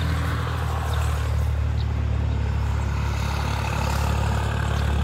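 A small Massey tractor approaching, its diesel engine chugging low and steady at a constant, fairly close level with no speech over it.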